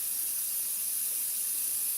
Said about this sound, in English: I'll just top the colour up with water and we're just going to spray that out